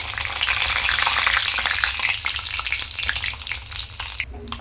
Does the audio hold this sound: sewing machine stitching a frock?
no